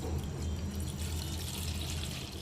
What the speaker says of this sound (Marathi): आता मी नेक्स्ट स्टेप मिक्सिंग बाउलमध्ये पाणी टाकून घेते